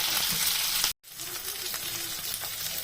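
Garlic, green chili and capsicum frying in a pan for mushroom Manchurian, a bright close hiss of sizzling oil cut by one sudden brief silence before resuming with gentle stirring scrapes.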